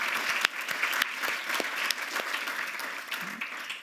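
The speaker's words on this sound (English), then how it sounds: "please give her a round of applause for these projects" An audience at a creative city summit claps in a steady, even round of applause that holds for a few seconds, then tapers off slightly at the end.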